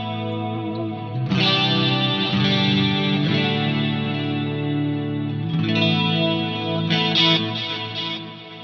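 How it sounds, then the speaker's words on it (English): Guitar played through the Dimension 1 chorus effect on a Fractal modeller, sustained chords with a lush shimmering chorus, close and loud, with a new strum partway through and no talking. "I like the dimension choruses. These sound really great. So I'm just going to go for dimension 1."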